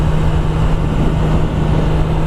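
A Kawasaki ZX10R 1000cc sport motorcycle rides in second gear at about 4,500 RPM and 45 mph, its steady engine drone loud and continuous with wind rush and no pauses.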